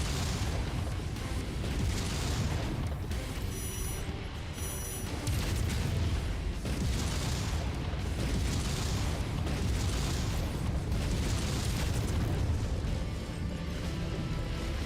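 Repeated heavy booms and blasts of rockets exploding in the Mechwarrior 5 mech combat game roll over a dense, continuous battle roar, with bursts arriving every couple of seconds and no voices.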